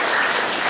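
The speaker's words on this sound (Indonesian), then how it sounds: "kita beri aplaus untuk kelompok 3" Brief burst of dense clapping from a classroom of students applauding group 3, a bright, steady patter from many hands lasting under a second.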